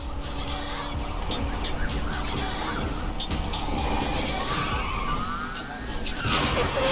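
A police car siren wails through a street race in the Need for Speed Unbound video game, rising and falling over roaring engine noise and continuous action sounds for several seconds.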